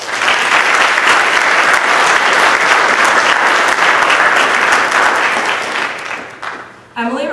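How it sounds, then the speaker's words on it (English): Loud, dense round of audience applause for high school National Honor Society students, sustained and even before fading out near the end. "Please join us in giving these students a round of applause."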